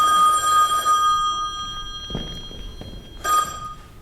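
An old-style telephone bell rings loudly in a room, a sustained metallic ring in two bursts separated by quiet, with a few soft thuds like footsteps between them.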